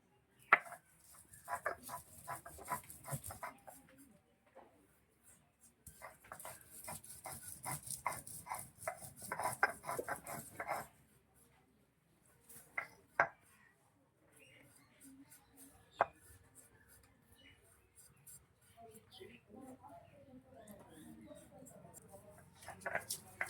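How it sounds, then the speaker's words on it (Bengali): Knife chopping potatoes and pumpkin on a board, in repeated bursts of quick close taps separated by pauses, with a few scattered knocks and some background voices. "আর সুরজিৎ এখানে আলু কাটছে"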